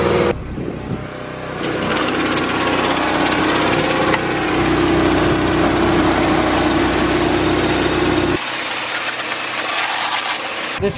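A planter tractor's motor runs steadily while seeding a crop, a loud continuous engine drone holding through the clip with a strong low hum, then dropping abruptly near the end as the motor dies.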